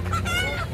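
A hill chicken at a weekly market lets out a short, loud, nasal honking call, close by and heard on its own under a busy background.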